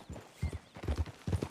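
Horse hooves clip-clopping at a steady walk in the Red Dead Redemption 2 video game, several soft, close thuds in an even rhythm.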